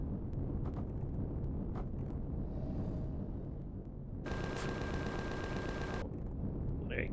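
A turret and a minigun fire in the Empyrion video game. Scattered distant shots give way to a dense mechanical burst of rapid fire lasting about two seconds, all over a constant rumbling background.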